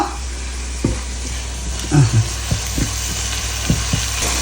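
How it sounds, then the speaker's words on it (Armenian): Frozen green peas fry in a pan for pasta with spinach, giving a steady low sizzle with several scraping stirs and light knocks of a utensil against the pan, close by. "Հիմա մի քիչ տապակում եմ, ոլորը մի քիչ տաքանա։"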